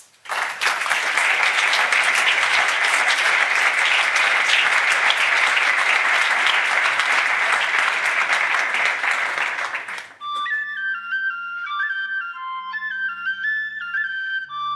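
An audience at a church presentation in Galicia bursts into loud, steady applause that lasts about ten seconds before cutting off abruptly into a soft musical jingle.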